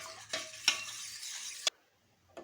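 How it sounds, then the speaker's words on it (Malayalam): Mushroom soup is stirred in a pot, making a few soft scraping strokes with a faint bubbling sizzle, quiet and close, then a pause before one last light stir. "നല്ലപോലെ ഇളക്കണം"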